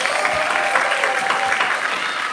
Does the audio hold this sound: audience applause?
yes